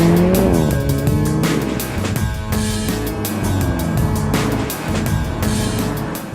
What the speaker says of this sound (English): One thing that really gives the vehicle its racing spirit is the roar of the engine.